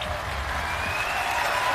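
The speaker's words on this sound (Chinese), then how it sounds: "来，我们也给阿宝老师点掌声，掌声鼓励。" A TV studio audience on a Chinese job-interview show applauds teacher A Bao during a dance demonstration, giving a brief, soft, continuous wash of clapping.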